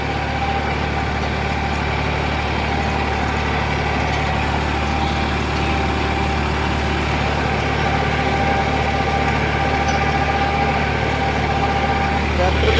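Massey Ferguson 9500 tractor engine running steadily at 1400 rpm while pulling a super seeder in a field, a continuous loud, close diesel drone with no breaks.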